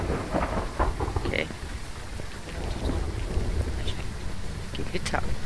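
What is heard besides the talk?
thunderstorm in a video game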